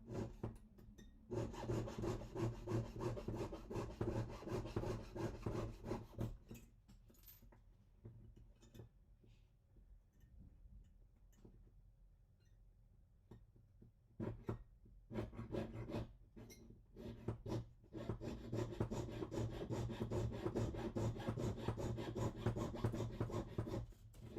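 A piece of Irish slate is trimmed down for a silver pendant, giving steady rasping, sawing strokes that pause midway with a few scattered scrapes before resuming at a close, even pace.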